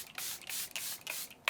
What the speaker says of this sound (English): let's go ahead and lock it in with some setting spray